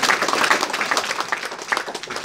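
An audience at a business seminar claps steadily at moderate volume, a dense patter of many hands.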